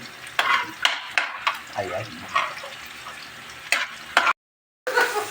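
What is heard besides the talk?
garlic frying in a pan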